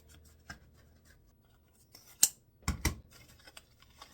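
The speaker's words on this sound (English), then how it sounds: "I want to cut 7 each of these 2 ribbons" Scissors snip through craft ribbon being cut to length, a few sharp close cuts clustered after a quiet pause, with light handling rustle between them and no talking.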